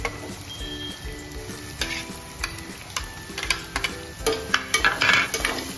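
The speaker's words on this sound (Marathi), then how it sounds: "अद्रक लसूण मिरचीची पेस्ट ही गोल्डन ब्राऊन झाल्यावर आपण त्यामध्ये चिरलेला कांदा टाकणार आहोत" Chopped onion frying in golden-brown ginger, garlic and chili paste, a steady close sizzle and crackle with spoon clicks and scrapes against the pan growing busier toward the end.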